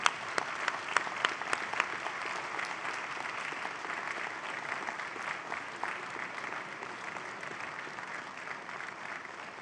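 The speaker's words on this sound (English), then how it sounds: "give them a warm round of applause for supporting your journey" Graduation convocation audience applauding their families and friends in a large hall: a steady, dense wash of many hands clapping throughout, with a few sharper individual claps near the start.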